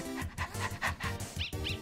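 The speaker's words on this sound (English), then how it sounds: "You barely lifted your hand and lesser dog got excited." Lesser Dog from the video game Undertale gets excited when petted, giving a quick run of short, rhythmic, bark-like game blips and yips that repeat steadily for under two seconds, with no one talking.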